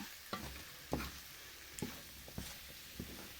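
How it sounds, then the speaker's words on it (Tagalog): Food frying in butter in a pan, stirred now and then: about five sharp scraping strokes land at a steady pace over a soft, continuous sizzle, close and fairly quiet, with no talking. "Parang ipa-fried lang natin to."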